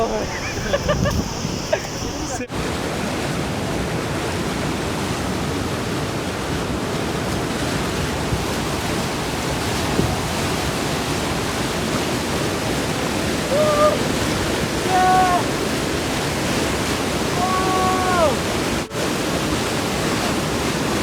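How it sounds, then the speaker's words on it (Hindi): A stream or waterfall near Chalas rushes steadily, a broad, constant wash of flowing water heard close and fairly loud throughout, with a few faint chirps and brief muffled voices over it. "पानी का बहाव"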